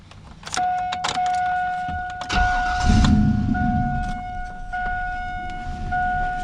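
A Nissan 720 pickup is cranked over and starts, then settles into a steady close rumbling idle. A chime rings through it, with a few clicks and no talk.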